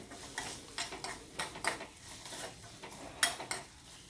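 Peanuts and chickpeas are sautéed in a pan, heard as a series of light, quick clinks and scrapes of a spoon against the metal in an uneven rhythm, fairly quiet with no talk.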